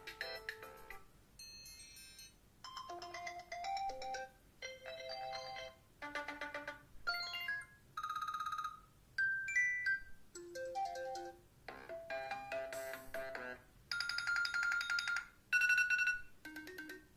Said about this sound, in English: And this is of course ringtones just for iOS 7.